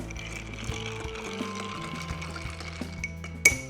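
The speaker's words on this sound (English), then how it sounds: "We're bar spoon, stirring for 20 seconds." A bar spoon stirs a tequila and mango cocktail over ice in a mixing glass, giving a steady run of soft clinks and swirling ice at close range, ending in one sharper knock against the glass.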